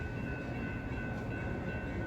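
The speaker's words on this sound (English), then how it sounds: "and a train approaches." A train approaching as a steady low rumble of rolling cars, moderately distant and fairly quiet, with no horn or voices.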